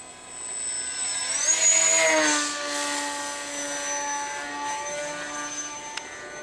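RC model airplane flying overhead, its small motor giving a thin, high whine that swells as it passes close, then shifts pitch downward and settles into a steady fainter drone as it moves away.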